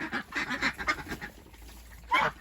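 Domestic ducks and geese kept in a tunnel call in a busy burst of repeated quacks and honks, close and fairly loud, pausing briefly before another loud honking outburst at the end.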